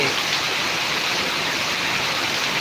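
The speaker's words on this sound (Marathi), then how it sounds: "पाऊस पहा काय भयंकर असा पाऊस होत आहे" Very heavy torrential downpour during extreme rainfall in Karnataka, a dense, steady roar of rain pouring without pause, loud and close, with no voices over it.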